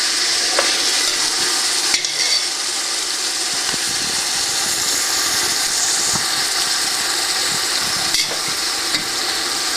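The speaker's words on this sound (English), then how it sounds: "I have also increased my flame to high so that I can saute it very well with the oil and the remaining spices." Meat sautéing with oil and spices in a pot over a high flame, a loud steady close sizzle with occasional stirring scrapes and clinks and no talking.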